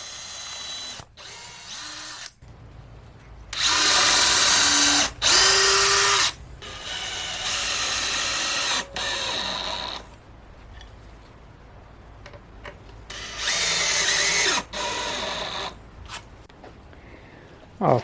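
Power drill driving screws to fix wooden shims beneath a board gaming table top, several loud whirring bursts of a few seconds each separated by quieter clicks and handling noise.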